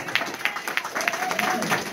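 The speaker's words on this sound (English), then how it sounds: "Can we get a round of applause for your regional director?" An audience at a political gathering in Visalia claps for a regional director, brief uneven applause with a voice talking over it.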